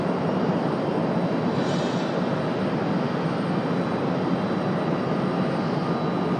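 A jet airliner arrives at Raleigh-Durham airport, heard as a steady, fairly faint engine rumble and rush that stays constant with no voices.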